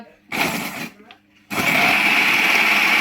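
A food processor whirs loudly through radish cut into french-fry strips, a brief burst, a pause with a faint tick, then a steady, louder grinding run that carries to the end.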